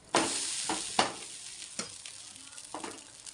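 Plain uttapam batter frying on a griddle with oil, a soft continuous sizzle broken by several scraping strokes of a spatula, close and fairly quiet.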